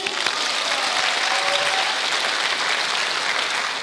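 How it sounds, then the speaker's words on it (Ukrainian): A live comedy-show audience bursts into steady, dense applause, a loud, even wash of many hands clapping that holds without pause from start to finish. "Ваші оплески!"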